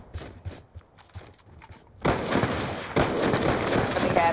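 Video game gunfire during a one-on-one match: light clicks and tapping at first, then a sustained dense crackle of shots and noisy blasts that stays loud to the end.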